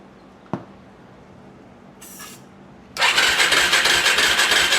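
A Suzuki LTZ 400 ATV engine sprayed with brake clean: a sharp pop, then a brief whir of cranking, then a loud, rough burst of sputtering engine noise that continues to the end.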